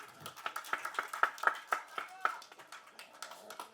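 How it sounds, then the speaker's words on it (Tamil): Scattered hand clapping at an audio launch event, a dozen or so distinct claps in a loose, uneven rhythm, fairly faint with a voice briefly underneath. "அவர் பேரை சொன்னாலே இங்கே கைத்தட்டுறதுக்குன்னு ஒரு கூட்டம் இருக்குது."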